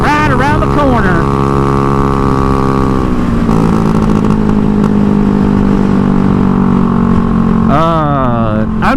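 A Honda Ruckus scooter with a GY6 engine and an open header pipe drones steadily and loudly nearby, its pitch sliding as it revs and settles, with talking over the ride.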